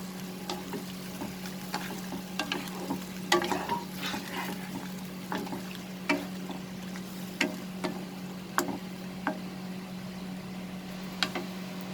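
A spoon stirs mango chutney with halved dried red chilies in a pan, with intermittent soft scrapes and knocks over a steady low hum and a faint sizzle, no voices.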